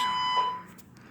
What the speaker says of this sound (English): The false fire alarm goes on.